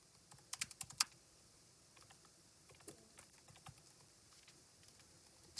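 Quiet typing of Rust code on a computer keyboard, with a quick cluster of crisp keystrokes at the start, then sparser, softer taps scattered across the rest, heard close and alone.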